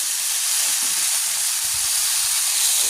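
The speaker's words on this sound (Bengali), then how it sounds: "লবণ দিব, আলু দিয়ে দিচ্ছি।" Potatoes hit hot oil in a pan with salt, giving a loud, steady, close sizzle that hisses continuously without a break.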